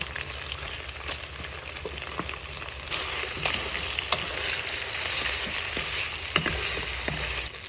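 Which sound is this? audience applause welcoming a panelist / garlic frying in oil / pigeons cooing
garlic frying in oil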